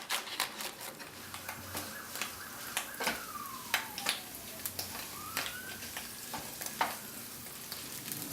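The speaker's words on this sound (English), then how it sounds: "add them to a saucepan with some olive oil" Chopped mustard greens sizzle in olive oil in a saucepan, a steady close frying hiss dotted with crackling pops, while a faint whistling tone slides up and down in the background.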